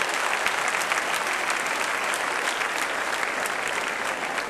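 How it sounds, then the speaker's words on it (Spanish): Loud, sustained applause from a church congregation praising the Lord during an apostle's sermon, continuous dense clapping filling the room with a crowd murmur beneath. "Démosle palmas fuertes a nuestro Señor."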